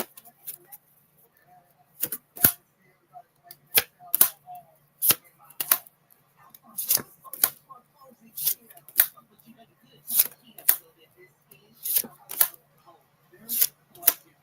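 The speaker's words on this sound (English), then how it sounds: "One more shuffle." Tarot cards are shuffled and handled up close, giving crisp, sharp snapping clicks in an irregular rhythm with quiet gaps between them.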